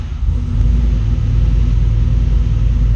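Subaru WRX engine running lean on a Megasquirt setup as throttle is given, a loud, steady, deep rumbling rev that rises quickly and holds close up with no talking.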